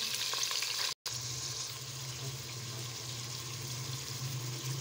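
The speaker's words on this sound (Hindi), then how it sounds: "चिकन को अच्छी तरह से फ्राई करेंगे।" Chicken pieces frying in a pan over browned onions, a steady broadband sizzle throughout with stirring clatter and low bubbling, close and loud, with a brief dropout near the start.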